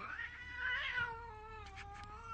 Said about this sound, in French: quand il y a conflit entre deux chats autour de l'eau, de la nourriture ou de la litière par exemple